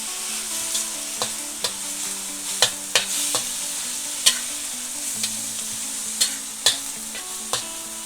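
Oyster mushrooms fry in a pan with a steady close sizzle, punctuated by sharp pops and crackles at irregular intervals as the oil spits.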